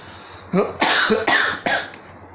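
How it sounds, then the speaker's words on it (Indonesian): Four sharp, close coughs in quick succession, each a harsh burst, with a short pause after the first. "terlalu semangat ya sampai batuk-batuk nih"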